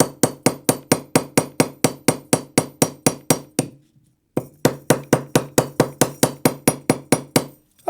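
A hammer strikes copper wire for a bracelet, tapering the end in a steady run of sharp, evenly spaced metallic blows, a short pause, then another rapid series, close and loud.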